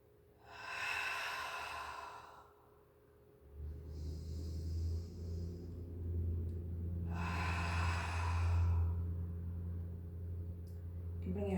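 A person draws two slow, deep breaths during a beginner yoga stretch at home. The breaths are airy and close, separated by a pause, over a steady low background hum.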